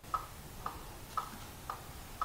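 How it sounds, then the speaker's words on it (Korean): Steady, soft ticking comes from a Balmuda The Brew coffee maker while it brews, five evenly spaced clicks about half a second apart over a low background hiss. "그리고 추출 중에는 똑딱똑딱 하는 이 소리가 납니다"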